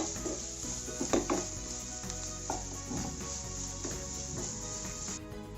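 Potato filling with onions being sautéed in a pan for Malayali-style aloo paratha: steady soft sizzle with intermittent scraping and clinks of a spoon against the pan, close and moderately quiet, no talk.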